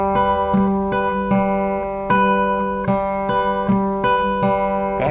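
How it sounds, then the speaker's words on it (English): An acoustic guitar plays a fingerpicked pattern from a song, with a steady run of about a dozen crisp plucked notes over a ringing bass string, played alone. "So let me demonstrate that little picking pattern that we just did."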